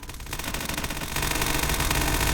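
Rapid automatic gunfire from the Roblox game SCP Task Force rattles in a dense, loud stream of shots, steady and close.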